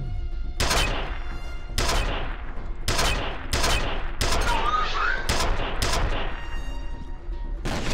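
Loud gunfire in the first-person shooter F.E.A.R., a series of heavy, violent weapon bursts about once a second, each sharp crack trailing into a rumbling decay, with game music faintly underneath.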